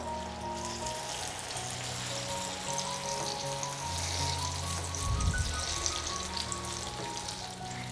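Banana snacks coated in rice flour batter fry in hot oil with a steady, dense sizzle and crackle throughout, close and fairly loud, plus a brief bubbling surge partway through and no talking.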